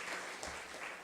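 A church congregation applauding during a Sunday worship service, a dense, steady wash of clapping in a large hall, heard briefly and evenly.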